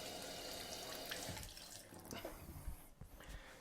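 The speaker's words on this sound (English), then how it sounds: "So if I wash my hands." Running tap water splashes over hands being washed at a sink, a steady close stream with small bursts and drips as the hands move, heard alone with no talk.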